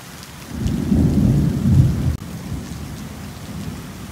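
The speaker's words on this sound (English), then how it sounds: "hopefully this storm will just sit right on top of us" Steady heavy rain hisses while a deep rumble of thunder rolls through, swelling then fading into continuing downpour.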